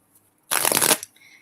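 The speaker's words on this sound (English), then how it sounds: "Giving them a good shuffle" A brief, crisp riffle of Osho tarot cards being shuffled, a single dense burst of flicking paper lasting about half a second in a quiet room.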